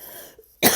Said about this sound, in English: I'm trying not to cough, but talking so much.